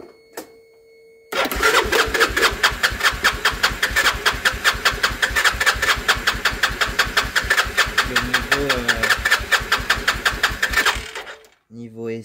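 A quad ATV engine that has not been started in a long time cranks repeatedly with a fast, rhythmic chugging against heavy compression, loud and close for about ten seconds without catching, then it stops.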